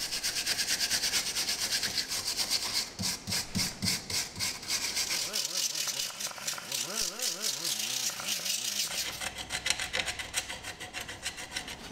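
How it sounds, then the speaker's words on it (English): Rust being scrubbed off the axle end and hub faces of a Dodge Grand Caravan during a front wheel hub bearing replacement, a close, rhythmic back-and-forth rasping that repeats in quick strokes throughout. "so you've got some rust on the end of the axle here, I'm going to give that a good clean up as well"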